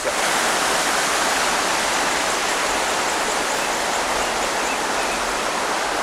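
Water flows steadily down a mountain stream between hills on trails near Alhaurín el Grande, a dense, even rush that stays loud and unbroken throughout with no voices.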